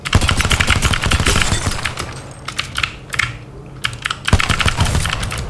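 Rapid clicking of a GM-962 Langer gaming mouse mixes with dense bursts of video game gunfire, a loud, fast rattling stream with a brief lull in the middle before the firing resumes.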